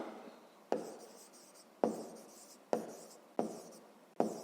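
A pen or pencil writes a digit by hand on paper during a 5th-grade maths exercise, giving several scratchy stroke bursts that each start with a sharp tap and fade out, close and quiet, with no talking.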